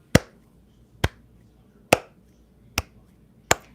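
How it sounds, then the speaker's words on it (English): Five sharp single claps, slow and evenly spaced about a second apart, crisp and close against near silence. "That deserved a slow clap."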